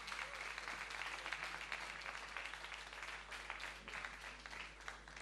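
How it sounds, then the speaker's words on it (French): A studio audience at a karaoke show launch claps continuously, a dense, even patter of many hands across the whole stretch, fairly distant and faint, over a low steady hum. "cela va se marquer par des applaudissements"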